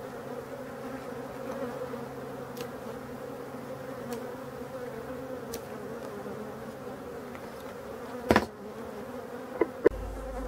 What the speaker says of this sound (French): on entend que les abeilles progressivement s'emballent un peu, s'énervent un peu, ça vient de partout